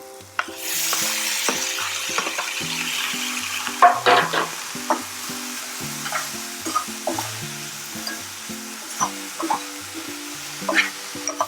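Brinjal pieces being fried for a palya, sizzling loudly in a pan as a spatula stirs and scrapes repeatedly against the metal, close-up and continuous with no voices.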